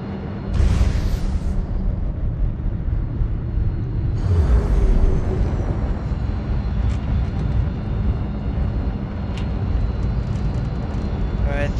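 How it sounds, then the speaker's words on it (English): Spaceship thrusters at full power on a SciTech ship in the Star Citizen video game: a loud, steady roar with deep rumble that holds throughout, with a few brief hissing bursts layered on top. "Thrusters at full."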